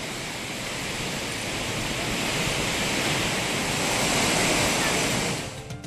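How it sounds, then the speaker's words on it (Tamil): A waterfall gushes over its safety barrier in a steady, loud, broadband roar that fills the whole stretch without a break. "பாதுகாப்பு வளையத்தை தாண்டி தண்ணீர் ஆர்ப்பரித்து கொட்டுகிறது"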